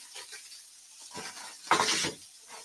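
A melt-in-the-middle cheeseburger patty fries in a pan before going into the oven, giving soft, close sizzling and spatter that rises in a brief louder burst partway through, with no talk.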